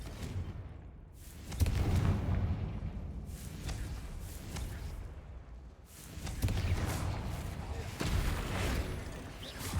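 Repeated fire-spell blasts from Hogwarts Legacy gameplay: sharp booming bursts with whooshing tails at intervals over a dense, busy game background.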